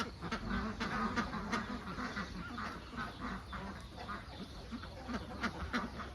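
A flock of Khaki Campbell laying ducks on a duck farm quacks continuously, many overlapping calls near and far against steady outdoor noise.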